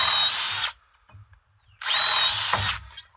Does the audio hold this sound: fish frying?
no